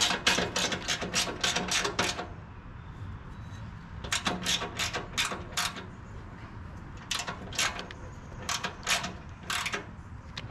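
A wrench ratchets as the motor on a wood chipper is tightened: three bursts of rapid, close mechanical clicks separated by short pauses, with no talking.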